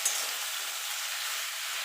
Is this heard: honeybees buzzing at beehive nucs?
no